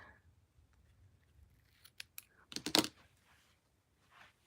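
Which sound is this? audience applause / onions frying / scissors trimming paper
scissors trimming paper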